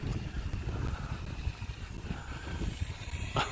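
An RC Fun Cub model airplane on a 4S electric motor at about half throttle buzzes steadily overhead in gusty wind, with a thin high motor whine over rough wind noise.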